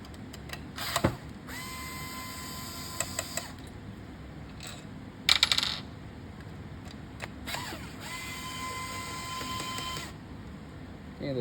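Small screws are unscrewed from the load cell area of a Mahlkönig E80 GbW coffee grinder, near the portafilter rest: quiet, close metallic ticks and brief scraping turns in several separate bursts over a faint background hum.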